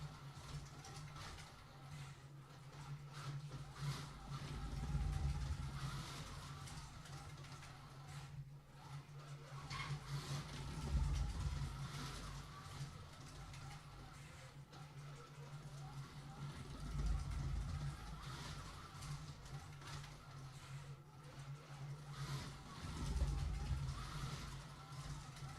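Race cars on a loose dirt track at a raceway, engines and tyres swelling and fading in repeated passes roughly every six seconds, distant and faint over a constant hum.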